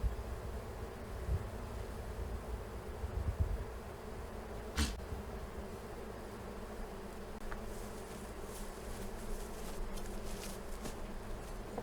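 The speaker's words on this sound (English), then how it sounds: "checking the activity on the front of the hive to see if there's, oh yeah, there's a lot of activity out there" Honeybees at the entrance of a homestead hive make a steady, low, continuous buzzing drone throughout, with a few brief knocks and soft rustles.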